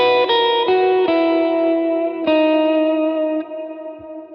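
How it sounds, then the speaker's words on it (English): Electric guitar playing slow sustained chords and picked notes in B, drenched in heavy reverb with chorus and echo, each strum blooming and ringing out into a long, fading wash, no voice. "Lots of reverb."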